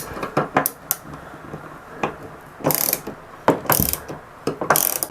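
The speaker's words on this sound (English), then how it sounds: "I gotta get a wrench, Kat, because that's turning." A ratchet wrench turns a bolt on a boat's toerail, with close, sharp clicking bursts in quick, irregular runs separated by short pauses, and no talking.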